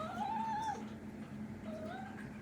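A cat hidden behind a curtain in a home lets out two drawn-out meows, the first longer and the second rising after a short pause, heard close and moderately loud with no talking over them.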